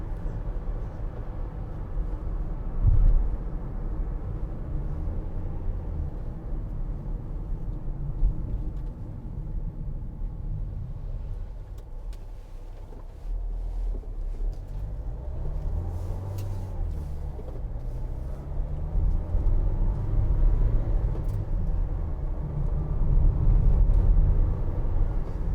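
A 2016 Vauxhall Vivaro 1.6 CDTi ecoFLEX van on the road, heard from inside as a continuous low engine and tyre rumble that swells and eases with speed.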